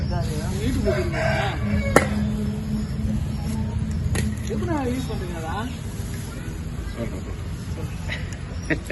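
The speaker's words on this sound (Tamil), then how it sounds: "இப்ப குருவி கத்துறது கோழி கத்துறது எல்லாம்" A rooster crows in the background of an outdoor scene, heard more than once over steady ambient noise and faint talking.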